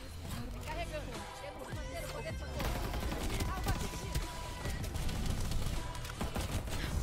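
Bursts of gunfire fill the battle royale video game Farlight 84: dense, overlapping rapid shots and fusillades pour out loud and continuous under excited voices and game noise.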